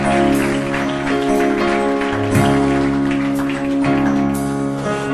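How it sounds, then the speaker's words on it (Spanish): Congregation clapping hands during Christian worship, steady rhythmic applause blended into loud sustained music with singing voices throughout. "Dale palmas al Espíritu Santo de Dios"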